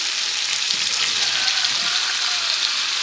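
Green jackfruit pieces hit hot oil and spice paste in a pan, giving a steady, loud, close sizzle and frying hiss with faint stirring scrapes throughout.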